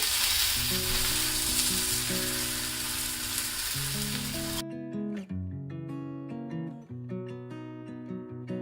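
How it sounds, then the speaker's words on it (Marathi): A bajra and spring onion thalipeeth fries in oil on a pan, giving a loud, dense sizzle under background music that cuts off abruptly about halfway, leaving only the music. "दुसरं पण याच पद्धतीने आपण दुसरं पण थालीपीठ टाकून घेऊया"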